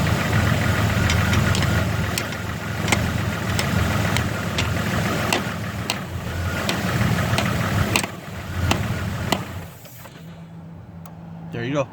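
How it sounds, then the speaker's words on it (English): A 1996 Jeep Grand Cherokee Laredo engine idles with a steady low rumble while sharp taps strike at intervals, then abruptly cuts out near the end, leaving a quieter hum. "It turned off my truck."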